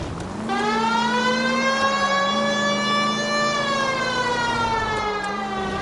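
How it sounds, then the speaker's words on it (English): A police siren in the video game L.A. Noire wails with a long rising and falling tone, loud and continuous, with no talking over it. "You got something against sirens, Phelps?"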